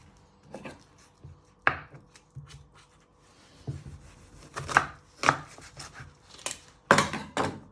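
A knife chops and trims an onion on a cutting board, making sparse, irregular sharp knocks with quiet pauses between them, then a quicker run of louder strikes toward the end, heard up close.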